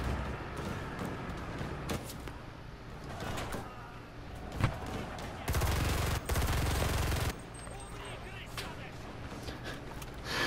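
Rapid automatic gunfire from an American 180 submachine gun in .22 Long Rifle, a dense sustained burst of about two seconds set against a busy battle soundscape with scattered shots and thuds.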